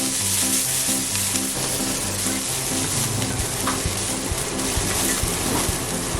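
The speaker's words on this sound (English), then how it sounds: "Onions have entered the pan. My job is to stir them." Onions sizzle loudly in a hot frying pan while being stirred, a dense, continuous crackle and hiss with occasional scraping, close up and without talk.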